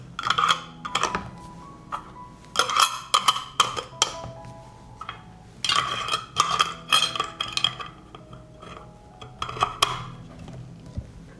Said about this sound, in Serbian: I zatvaram tegle sa čistim i novim poklopcima